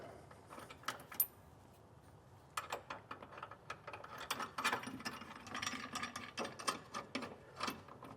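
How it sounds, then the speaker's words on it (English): A ratchet tightens a flange nut on a Curt underbed gooseneck hitch bracket in a 2025 truck, giving bursts of close, crisp clicking strokes with short pauses between runs. "We want to tighten these down evenly so this clamps nice and straight"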